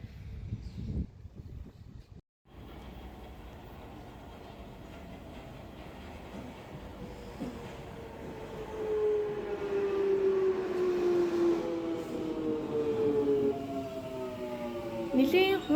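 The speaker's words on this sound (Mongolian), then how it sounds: "Нилийн хуучны бас жижигхэн метро болохоор нилийн муухай чимээ гаргадаг." An old, small London Underground train runs with a steady low rumble that builds, then rising and falling whining squeals from wheels and motors grow louder toward the end, heard up close from inside the carriage.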